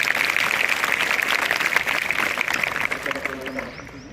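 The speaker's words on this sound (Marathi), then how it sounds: "बासुरीसाठी टाळ्या." Audience at a school event clapping for a girl, a dense patter of applause under a speaking voice that thins and fades toward the end.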